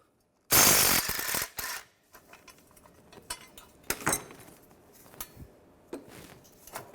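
A ratchet fitted with a 15mm socket removes bolts during clutch work on a 2005-2010 Chevrolet Cobalt. A loud burst of noise opens, followed by scattered metallic clicks, clinks and clatter, close by.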